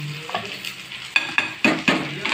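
Oil heats on a low flame in a pan for a Maharashtrian brinjal bharit and ridge gourd dish, giving a soft, steady sizzle broken by several sharp clinks and scrapes of stirring, close by with no talking.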